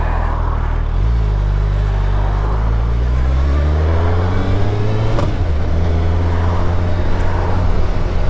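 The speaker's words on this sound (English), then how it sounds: "Those Akropovich exhausts sound amazing." 2022 Suzuki Hayabusa motorcycle with Akrapovic exhausts, heard while riding: a loud, steady engine drone whose pitch climbs and falls through the gears, with continuous wind and road noise throughout.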